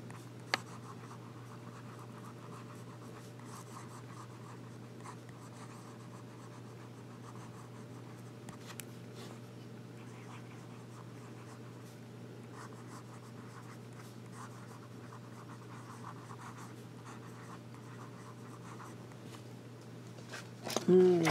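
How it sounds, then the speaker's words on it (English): A Visconti Magma fountain pen scratches across paper in a soft, continuous writing sound over a steady low hum, close and quiet, with a brief louder rustle at the end. "So now we'll do some more writing."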